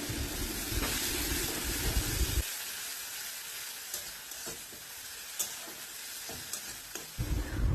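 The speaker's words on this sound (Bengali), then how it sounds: "মশলাটা কষানোর সময় এখানে একটু জল দিয়ে দেব, যাতে গুঁড়ো মশলাগুলো খুব ভালোভাবে কষা হয়ে যায়।" Ground spice masala with a splash of water fries and is stirred in a pan, giving a steady close sizzle with scraping of a spoon throughout and a brief drop in low rumble partway.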